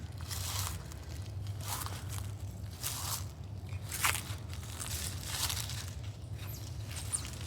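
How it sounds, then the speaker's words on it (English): Dry leaves crunch underfoot during a soft walk through the woods in Ohio, a steady run of close, crackly steps with no talking. "if you hear these leaves crunching, it's really not that loud"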